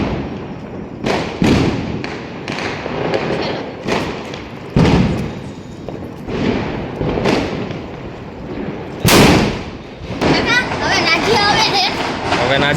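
Diwali firecracker bombs burst outdoors in a handful of sharp, booming thuds spaced several seconds apart, one especially loud, while people and children chatter throughout.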